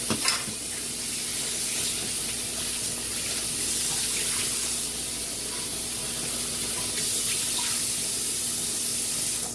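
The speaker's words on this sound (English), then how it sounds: "So I'm going to drain out the water, and I'm going to give it a wash." Cooking water drains from a pot of boiled green bananas, followed by rinsing them under running tap water in a sink. The splashing and spraying stay steady throughout, and no one speaks.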